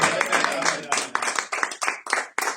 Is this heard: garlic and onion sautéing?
no